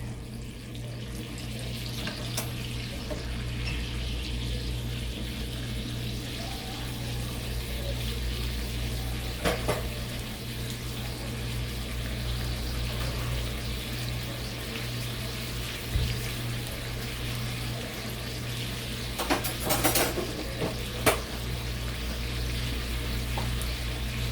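Salmon steaks sear in a pan with a steady, even sizzle under a low constant hum, marked by a few brief clicks and scrapes.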